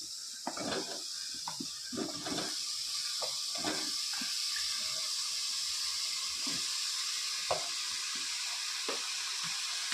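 Eggplant and potato sautéing in a pan for a curry, a steady soft sizzle with repeated scraping and stirring strokes close by, no voices.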